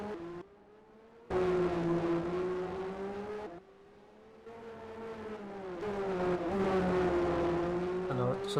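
Race cars in a racing video game on the Adelaide street circuit, including a March car, whine past with rising and falling engine tones, loud and sustained with brief dips, under faint commentary.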